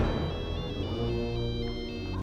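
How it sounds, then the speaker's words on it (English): The satellite phone ringtone from Jurassic Park III plays as a steady melodic electronic jingle, full and continuous, with repeating tonal notes over a dense background of film sound. "And that phone, the satellite phone jingle, it's burned into my brain"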